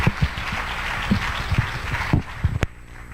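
An audience at a church gathering applauds to send off a guest, a fairly loud burst of mixed clapping with some heavier thumps that cuts off and fades near the end.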